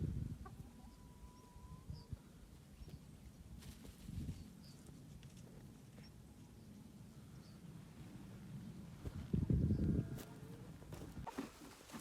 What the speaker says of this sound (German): Die Hühner haben sich an mich gewöhnt und freuen sich, mir hinterher zu laufen.